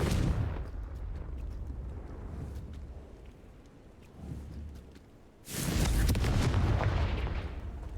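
Game explosions from the Confringo fire spell in Hogwarts Legacy. One deep boom rumbles and fades over several seconds, then a second heavy blast erupts with a dense roar.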